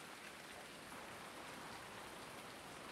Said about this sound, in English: It's raining out there, not raining in here.